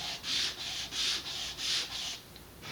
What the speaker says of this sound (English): bigger sheet of sandpaper, and I'm just going to stack these up and just go back and forth a couple times to remove the burr